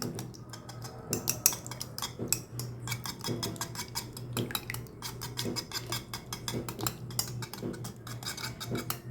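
Cracked eggs with a pinch of salt are beaten in a bowl, making rapid, rhythmic clinks and taps of a utensil against the bowl in quick bursts for several seconds, with no talking.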